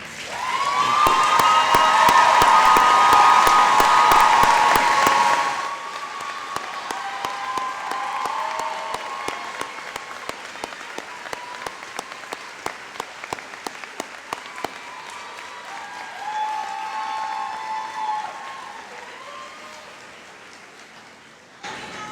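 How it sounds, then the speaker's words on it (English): Graduates, families and friends give a round of applause at a spring commencement ceremony: a loud, dense wall of clapping with some cheering for about five seconds, then thinning to scattered individual claps that gradually die away. "allow the graduates and their families and friends to thank them with a well-deserved round of applause"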